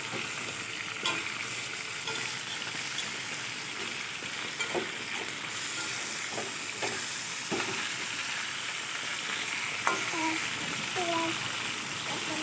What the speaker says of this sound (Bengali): আগে আমি এটাকে ভেজে নিলাম একটু ভাজা ভাজা করে নিচ্ছি